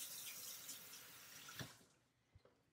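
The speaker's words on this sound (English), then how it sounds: "Wash my hands again." A kitchen faucet runs into a sink while hands are washed, a steady close stream that shuts off near the end, followed by a couple of drips and small knocks.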